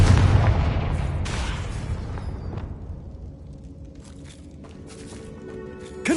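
Confringo spell in Hogwarts Legacy bursts with a heavy, booming explosion up close, followed by crackling debris and a rumbling tail that fades over several seconds before a small pop near the end.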